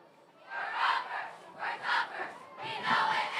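Cheerleaders at a high school football game chanting in three rhythmic shouted bursts, a group of voices calling together at moderate distance.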